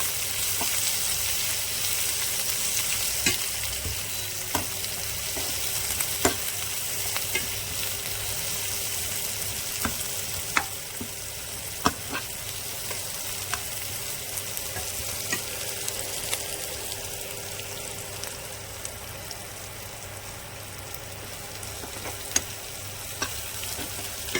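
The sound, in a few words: sliced onion frying in pan for rava upma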